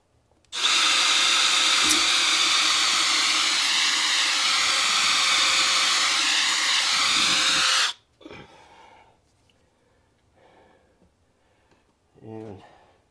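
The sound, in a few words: power drill drilling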